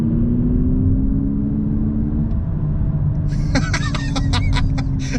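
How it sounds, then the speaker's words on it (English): A 2022 Lexus UX250h hybrid pulls away from a stop, giving a steady low engine drone with a rising hum that holds without gear shifts. Near the end, brief higher-pitched squeaks and clatter cut in over it. "when you actually take off, it almost sounds like the motor out of a Camry TRD."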